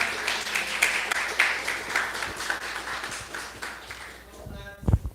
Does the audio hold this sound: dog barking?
no